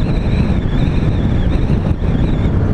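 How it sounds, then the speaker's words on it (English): Heavy wind buffets the microphone in a constant low roar and rumble, loud and close, with no voices. "It's really windy."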